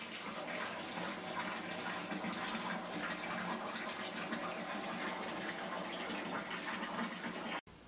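A bathtub fills from a running tap with a steady, even rush of water splashing into the tub, constant and close throughout before cutting off at the end, with no talk.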